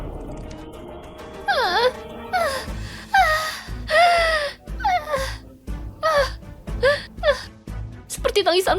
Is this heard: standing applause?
no